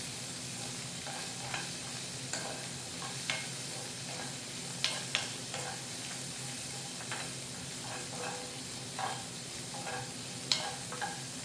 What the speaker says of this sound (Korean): 마늘하고 같이 볶읍시다 그냥 이렇게 해서 볶아주세요